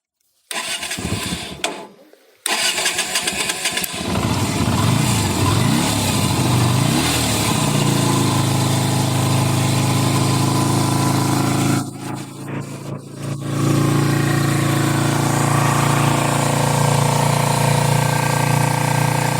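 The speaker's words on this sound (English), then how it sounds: "We're going to engage the starter, and then here it's good, and there you have the live sound." A miniature 125cc Yamaha Virago motorcycle engine cranks on its starter with a brief stutter, catches, and settles into a steady rumbling idle heard up close for most of the clip, with no speech.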